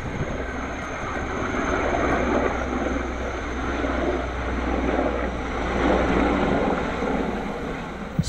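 An Mi-8 medium firefighting helicopter arrives in Heraklion, Crete, and its engine and rotor make a loud, continuous, steady roar with some wind buffeting throughout, with no voices.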